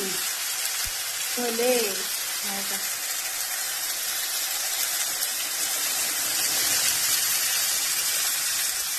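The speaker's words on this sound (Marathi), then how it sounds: "आता मस्त फ्राय करते" Chickpeas frying for a chole curry, a steady hiss of sizzling oil filling the pan throughout, with a voice talking briefly near the start.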